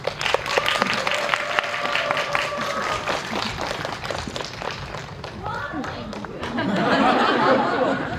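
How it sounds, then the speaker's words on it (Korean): An audience at a film screening Q&A applauds as a director, an actor and a choreographer are welcomed, clapping carrying on at moderate volume under chatter and some laughter, then swelling near the end. "큰 박수로 환영 부탁드립니다."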